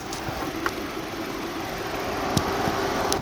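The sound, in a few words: Nissan Altima gasoline engine idling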